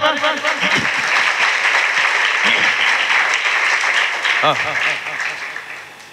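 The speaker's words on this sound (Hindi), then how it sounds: "ताली टिके मारिबा" A congregation at a youth revival meeting claps loudly and continuously, a dense burst of applause with voices audible underneath.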